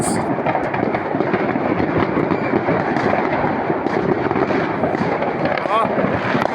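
Dense, continuous crackling and popping from many New Year fireworks going off at once in the Netherlands, loud and nearby, with a faint voice now and then.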